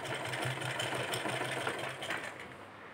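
A sewing machine stitches a folded neckline edge on a garment, giving a fast, steady mechanical whirring and clatter at moderate volume that runs continuously and eases slightly toward the end.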